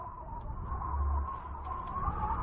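A magpie near a snow leopard in high mountain country gives a few short, harsh chattering calls, scattered and faint, over a steady low hum of wind.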